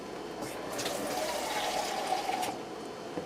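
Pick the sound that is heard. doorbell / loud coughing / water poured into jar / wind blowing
water poured into jar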